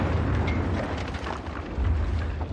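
A heavy World War One artillery barrage, a continuous deep rumble of overlapping booms and blasts that rolls on steadily without pause.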